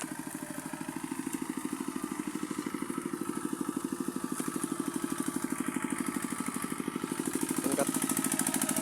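A motorcycle engine runs steadily throughout, with a rapid even pulsing that grows slightly louder toward the end, heard at close range with faint background noise.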